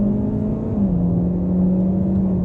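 A 2023 Hyundai Elantra Limited accelerates on the highway, heard from inside as a steady, moderate engine and road drone whose pitch dips slightly partway through.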